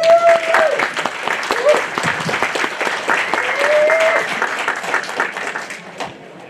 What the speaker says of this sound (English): please give a large round of applause for Jeffrey Tucker